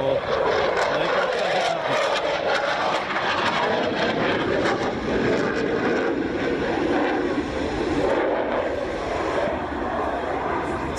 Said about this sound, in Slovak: Stále prebieha teda súboj dvoch Suchojov 22 M4 tu nad leteckou základňou Sliač.